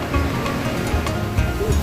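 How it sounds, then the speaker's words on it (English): A river in full flow rushes steadily nearby, a dense continuous wash of water noise with no voices. "River in a full swing."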